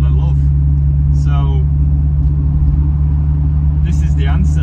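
A home-built hydrogen combustion engine car idles with a steady, loud low-pitched drone and deep rumble throughout, with a few brief voice-like sounds faintly above it.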